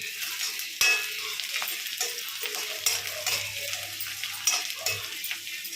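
Chopped onion and green chili sautéing in a pan for prawn thokku, a steady close sizzle broken by a few sharp scrapes and clanks of a spoon stirring against the metal, with a low hum running underneath partway through.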